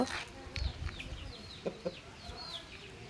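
Roosters kept for fighting cluck in short, soft bursts, with chirping birds and faint rustling in the background at low overall volume.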